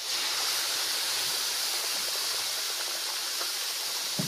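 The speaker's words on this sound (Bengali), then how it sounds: "দেড় বাটি মতো জল দিয়ে দিলাম।" Water is poured into lightly roasted semolina in a hot pan, giving a steady, close hiss and sizzle that runs evenly throughout with no voices over it.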